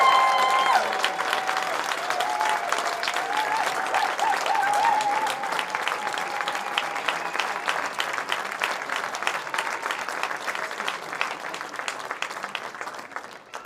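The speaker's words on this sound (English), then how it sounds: "This is Mrs. Ali McPhail. Give her a standing ovation." Standing ovation for Ali McPhail at an athletics medal ceremony at the Orkney 2025 Island Games: steady, dense clapping from a large crowd, sustained throughout, with a faint whistle and scattered cheers early on, slowly tapering toward the end.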